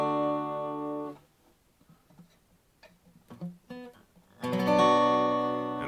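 Acoustic guitar chords strummed by a beginner, changing slowly and unevenly: a ringing chord, a long faltering gap with scattered plucked notes and fumbles, then another full chord ringing out loudly, with no voices.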